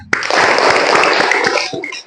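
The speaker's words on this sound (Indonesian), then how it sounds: "Tepuk tangan" A classroom of students bursts into loud, dense applause, a steady wash of many hands clapping together close by, lasting about two seconds before trailing off.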